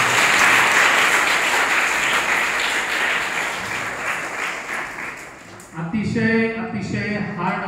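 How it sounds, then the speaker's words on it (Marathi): An audience claps loudly and continuously in a hall at an Independence Day event, the applause slowly fading before a voice speaks near the end. "सगळ्यांनी जोरदार टाळ्या वाजवायच्या."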